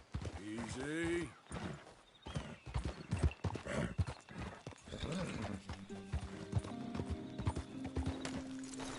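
Horse hooves clip-clopping in the Western video game Red Dead Redemption 2, with a horse whinnying near the start, then rapid rhythmic hoofbeats, close and fairly quiet, with bits of speech mixed in.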